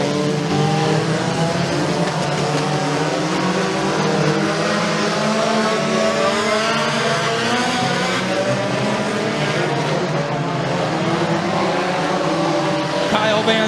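Dirt-track race cars roar loudly down the front straightaway at Bradford Speedway during heat races, a dense continuous engine drone with shifting pitch as the pack passes, steady throughout with an announcer faintly under it.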